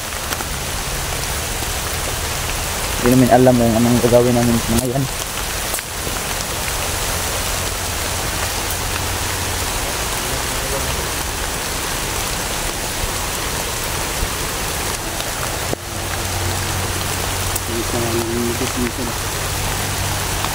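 Heavy rain pours steadily on a mountain, a loud continuous hiss throughout, while people talk briefly over it.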